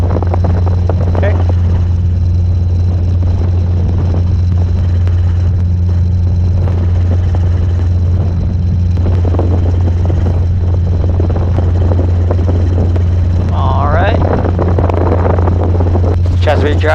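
Constant droning Robinson R22 helicopter engine and rotor hum from inside the cabin during a training flight, with a person talking over the radio above the steady mechanical noise.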